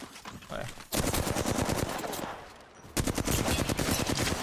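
Rapid automatic gunfire rattles in bursts in the Apex Legends firing range, with a long loud burst, a short lull, then another sustained burst of shots, loud and close.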